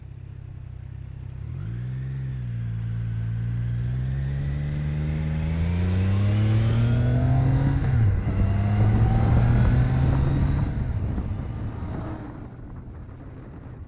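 A 2023 Triumph Trident motorcycle pulls away from a stop, its three-cylinder engine note rising steadily in pitch through the revs, dipping briefly at a gear change, then climbing again loud and close with wind rush.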